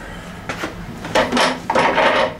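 A 1994 Johnson 35/40 hp outboard's flywheel is turned over by hand with no spark plug in, giving a few close, uneven mechanical rasps and clicks in short bursts.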